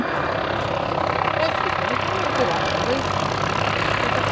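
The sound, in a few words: P-51 Mustang aircraft engine flying at airshow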